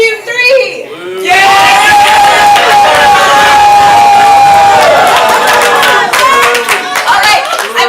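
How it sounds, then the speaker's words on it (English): A comedy improv audience at a holiday show claps, cheers and shouts to vote for points. After a brief quiet start the noise bursts in loud, with whoops and children's shrieks over sustained clapping that fades slightly toward the end. "let's clap, make some noise, and let's see who gets the points"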